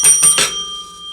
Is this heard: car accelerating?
no